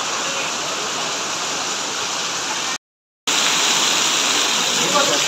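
Marleswar waterfall in the Konkan during monsoon, a loud, constant broadband roar of falling water, with a brief dropout of silence midway before the rush resumes unchanged.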